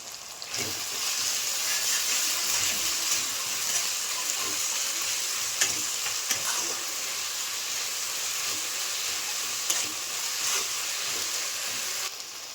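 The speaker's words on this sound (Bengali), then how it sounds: "টমেটোকেও ভালো করে নাড়াচাড়া করে নিতে হবে।" Chopped tomatoes fry with onions for a winter duck curry, giving a continuous hissing sizzle close by, broken by a few sharp scrapes and taps of stirring in the pan.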